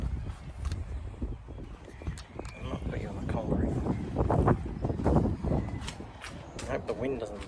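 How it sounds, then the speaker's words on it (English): Wind gusting outdoors beside a homemade C-cab hot rod lawn mower, a rough broadband rumble and buffeting on the microphone that swells and fades, fairly close and steady across the clip. "It's a bit windy today."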